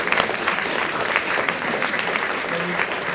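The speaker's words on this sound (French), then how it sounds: "Vous pouvez les applaudir aussi" An audience at a 2023 eloquence contest gives the jury a short burst of lively, dense applause that holds at a steady level.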